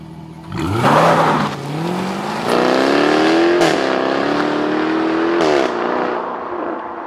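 A Jaguar F-Type R sports car with a 575-horsepower engine roars loudly while driving, its pitch climbing through several hard accelerations with brief breaks at the gear changes.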